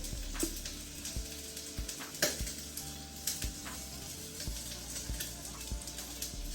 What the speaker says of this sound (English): We are still sizzling.